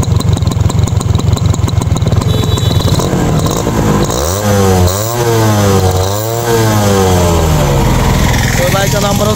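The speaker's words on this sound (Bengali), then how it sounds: "তো সাউন্ডটা একটু দেখাচ্ছি" A Honda AS100 CDI 100cc motorcycle engine runs with a steady low throbbing rumble, close up, rising and falling as the throttle is blipped several times partway through.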